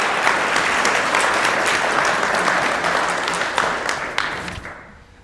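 A live debate audience in Chicago applauds a debater, a thick continuous burst of many hands clapping that stays loud for several seconds, then tapers with a few last claps before stopping abruptly.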